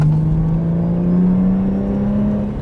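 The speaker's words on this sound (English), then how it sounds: "Flexing that right foot, that through the entire rev range, it's just enjoyable" Used Subaru Legacy with an aftermarket exhaust accelerating from about 40 to 60 km/h: a loud, steady engine drone with a rising tone climbing smoothly through the revs, heard from inside the car.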